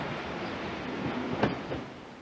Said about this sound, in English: Larry boarded the 9:52 from Dumpton Park to London.